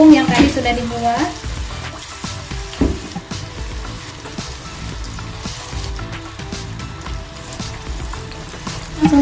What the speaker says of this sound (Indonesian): Pisangnya digoreng, sebelumnya dicelupkan dulu ke tepung yang tadi sudah dibuat.